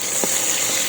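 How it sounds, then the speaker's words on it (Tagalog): Onions sizzle in hot oil in a pan while mung bean stew is being cooked, a brief steady hiss with a tiny clink near the start. "Lagay na natin yung sibuyas"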